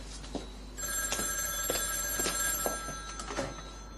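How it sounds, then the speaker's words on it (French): A telephone bell rings indoors in a domestic drama scene, with repeated bright trilling bursts running steadily across several seconds at moderate volume and no talk over it. "Tiens, le téléphone."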